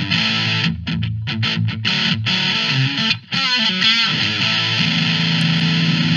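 An electric guitar riff runs through an IK Multimedia AmpliTube X-Drive distortion pedal, heavily overdriven and loud, with choppy chords broken by short stops, then a sustained held note ringing out.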